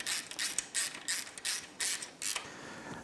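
A hand ratchet snugs the engine head mount bolts on a Yamaha YFZ450R quad during a top-end rebuild, giving a close, steady series of rapid pawl clicks in short bursts with brief pauses between strokes.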